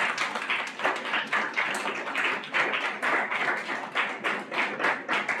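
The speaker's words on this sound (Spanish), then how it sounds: "Un aplauso nuevamente para el maestro Abdul S." An audience applauds a speaker at an event, steady dense clapping from many hands that holds at an even, fairly loud level throughout.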